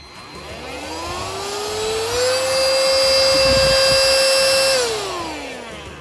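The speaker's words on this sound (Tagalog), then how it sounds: "dito may lumalabas na air. So parang exhaust siya dito sa side na to." A Xiaomi Coclean portable vacuum cleaner spins up to a steady, loud high-pitched whine, holds it for a couple of seconds, then winds back down, close and with no voices.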